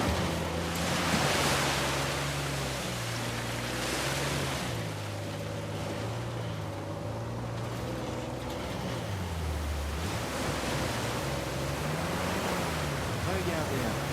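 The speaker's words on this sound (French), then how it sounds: "Une grotte secrète cachée derrière une cascade." A waterfall roars in front of a hidden cave in a pirate-adventure game, a steady broad rushing wash that runs throughout beneath a melodic musical score.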